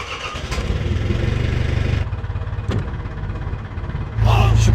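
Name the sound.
fishing boat engine starting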